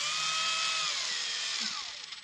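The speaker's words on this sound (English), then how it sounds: "These types of drill bits" A power drill whines at high speed while boring with fast-cutting drill bits during carport fixes, loud and close, then the motor winds down near the end.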